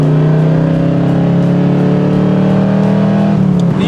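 A Corvette's V8 rumbles loudly and steadily through Speedy Sport mufflers, a deep sustained drone close by with a slight rise near the end.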